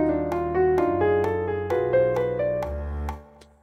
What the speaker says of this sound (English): We also added something we called a shimmer tone